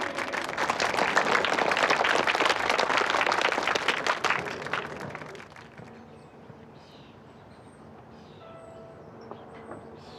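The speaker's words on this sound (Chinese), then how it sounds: "掌声有请" Audience applause welcoming a contestant on stage at a comeback-round competition, full, dense clapping for about five seconds that then dies away into quiet room tone with a few faint tones.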